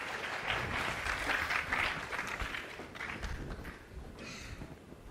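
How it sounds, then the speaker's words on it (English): Audience applause at a Windows input workshop in Taipei, a moderate crowd clapping that peaks early and then thins out and fades. "Ladies and gentlemen, please give a round of applause"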